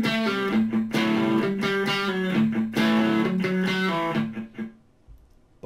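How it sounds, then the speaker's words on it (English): Overdriven electric guitar riff, pulling off to the next string, with continuous rich sustained notes and small rhythmic breaks, then fading out near the end. "And pulling off to the next string in the riff sounds like this."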